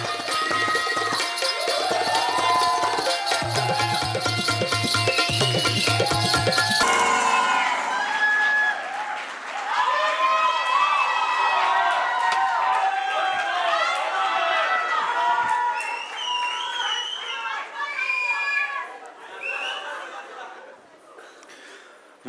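An audience at a Marathi film trailer launch claps together in a fast, steady rhythm to welcome the movie Fullwanti. The clapping then gives way to a voice amid crowd chatter and laughter.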